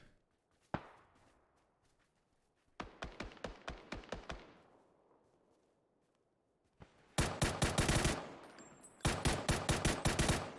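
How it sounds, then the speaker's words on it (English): M4 rifle gunfire in PUBG: a single shot, then a long burst of rapid automatic fire, a pause, and two more sustained bursts, sharp and loud with no talking. "Using the M4 at a distance."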